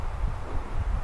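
Wind blows across a hillside during an opening-day archery hunt in Utah, a steady low rumble buffeting close against the microphone for about a second, with no one talking.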